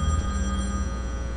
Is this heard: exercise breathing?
no